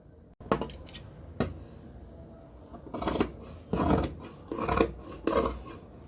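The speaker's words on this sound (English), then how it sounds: "So we can now cut this part." Scissors cut through folded fabric for a cap in a run of close, crisp snips and crunchy rasping strokes, some short and some drawn out, with no voices.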